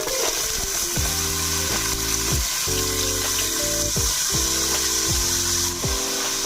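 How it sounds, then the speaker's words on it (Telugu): Onion pieces frying in a little hot oil, a steady loud sizzle running throughout, with repeated low rhythmic scraping strokes, likely a spatula stirring the pan. "గోల్డెన్ బ్రౌనిష్ కలర్ వచ్చే వరకు వేయించుకోవాలి."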